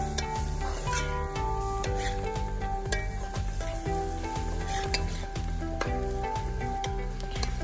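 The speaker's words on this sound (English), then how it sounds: "go in with our dal, our split peas that's been washed. And we're just gonna give that a nice toss" Washed split peas (dal) frying with other ingredients in a pot for Guyanese kitchri, a loud steady sizzle with repeated scraping stirs and tossing strokes close by, and no talking.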